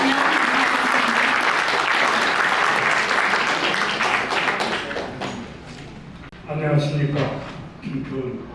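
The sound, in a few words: audience applause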